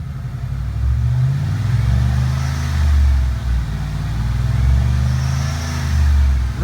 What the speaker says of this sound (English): Revs up nice and smooth.